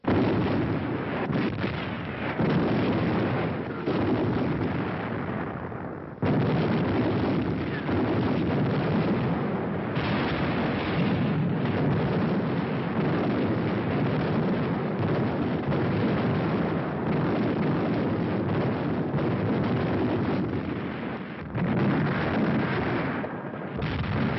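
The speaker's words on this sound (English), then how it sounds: "long-range guns hurled ton after ton of high explosives into the heart of the city" Long-range artillery shells of high explosive pound a city, a near-continuous roar of booming blasts with short breaks between the heavy bursts, loud and muffled like an old wartime recording.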